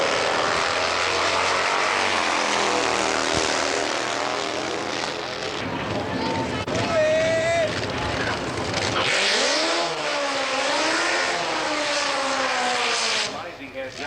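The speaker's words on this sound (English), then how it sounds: "Amazing how Jay Upton's bike stands that rear slick up" Nitro drag racing motorcycle making a run down the strip at Eastern Creek in the 1990s, its wide rear slick standing up, a loud sustained engine roar that rises and shifts in pitch, with crowd and commentary noise mixed in.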